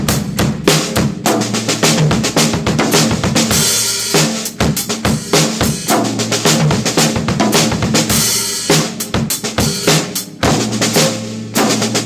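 A drum kit plays a loud, fast one-measure sixteenth-note fill, with dense rapid hits on drums and cymbals in a busy pattern throughout.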